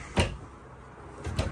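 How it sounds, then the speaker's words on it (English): Two bumps from a deep drawer in a new 2022 Grand Design Imagine 2500RL travel trailer, one early and one near the end, each a short muffled knock of the drawer sliding open or shut, quiet and close with no talking. "Nice deep drawers."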